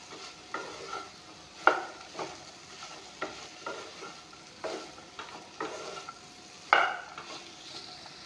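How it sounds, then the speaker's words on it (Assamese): Okra being stirred in a frying pan with turmeric, onion and green chilli, giving a steady sizzle broken by regular scraping strokes of the spatula and a couple of sharper clinks against the pan. "এতিয়া ভেন্দিখিনি অলপমান লাৰি দিম"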